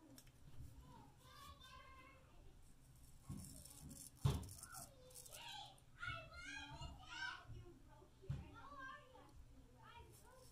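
Children playing outside, their distant high voices chattering and calling in scattered bursts, faint and low in level with occasional bumps.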